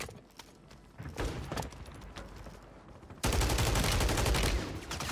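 Rapid bursts of gunfire in the shooter game Warzone, a sparse volley early on, then a loud, dense sustained barrage of shots in the second half.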